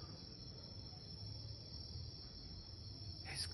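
Crickets chirping at night, a steady high-pitched trill that runs continuously and faintly in the background, with a brief brighter burst near the end.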